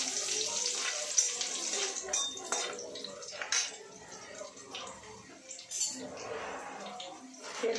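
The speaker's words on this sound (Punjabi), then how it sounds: "ਆਪਾਂ ਲਸਣ ਪਾਵਾਂਗੇ, ਥੋੜ੍ਹੀ ਜਿਹੀ ਫਰਾਈ ਕਰਾਂਗੇ ਜੀ" Garlic frying in a pan gives a steady sizzle with occasional stirring and light clinks of utensils, close and moderately loud. A person speaks intermittently over the cooking.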